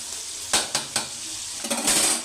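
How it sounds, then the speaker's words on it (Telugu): Chicken frying in a pan at home, a steady sizzle with a few sharp scrapes and clanks of a spoon stirring against the metal, close and fairly loud, with no talk. "ఇప్పుడు చికెన్ ఫ్రై చేస్తున్నాం కదండి"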